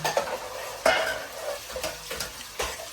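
Tomatoes fry in a pan over low gas with a soft, even sizzle, punctuated by a few stirring scrapes and light metallic clinks.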